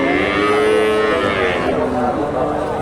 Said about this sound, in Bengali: এই গরুটা দেখেন ছোট বাচ্চা